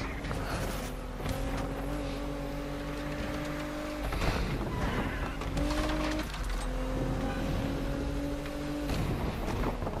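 A car in the racing video game Need for Speed Unbound drives with a steady engine drone that rises and settles as it shifts, with brief whooshing and crunching breaks between runs of the sustained engine tone.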